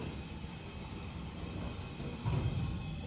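A vintage 1963 Eastern hydraulic freight elevator, low on oil, descends with a steady, close, low mechanical rumble and hum that swells slightly near the end, with no voices.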